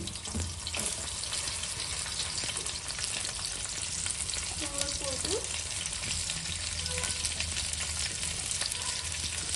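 Okra hisses in a small amount of hot oil in a steady, dense, close sizzle, with a brief clink partway through and a faint running-water sound in the background.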